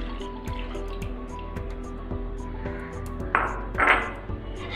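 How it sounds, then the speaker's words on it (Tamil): Milk is poured into a pan of melted sugar for semiya payasam, a short liquid pour with drips and a brief splashing swell near the end, close by and without speech. "பால் சேர்த்துக்கலாம்."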